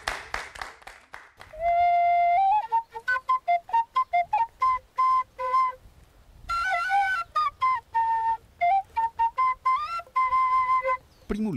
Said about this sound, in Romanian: Primul instrument la care a învățat să cânte Petrică Nicoară a fost fluierul